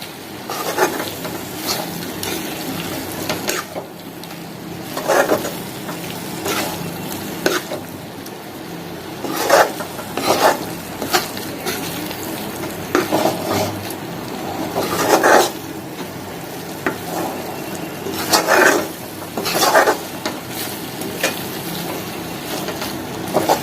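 Prawn gravy sizzles in a pan while a spoon stirs it, a steady frying hiss broken by repeated scraping strokes at an uneven pace.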